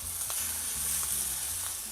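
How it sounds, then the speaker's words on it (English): Pork loin chops sizzle in a hot cast iron pan, a steady crackling fry close up with small pops and a faint stirring or scraping now and then, with no voices. "we're gonna put it on the seasoned side down. And you wanna hear that sizzle"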